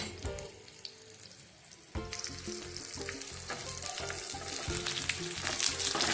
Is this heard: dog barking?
no